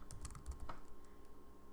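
Typing on a computer keyboard produces a quick run of soft, close key clicks in the first second, then trails off into a quiet room hum.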